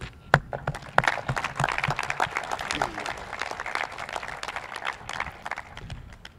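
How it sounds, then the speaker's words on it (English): Audience applause at a softball field dedication ceremony, a scattered round of clapping with a few sharp claps standing out, moderately loud and continuous, with some voices mixed in. "Please join me in another round of applause for this special group."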